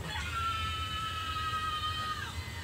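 A female wrestler screams during a live WWE Battleground women's match, a long, high, sustained shriek that wavers and then drops off, carried over steady arena crowd noise.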